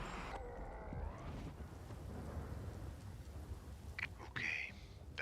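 Deep rumbling thunder rolls through a video game rainstorm, a low, steady roar under rain noise, joined near the end by brief sharper game sounds, and a faint voice is present.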